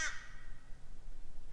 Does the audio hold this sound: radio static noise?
no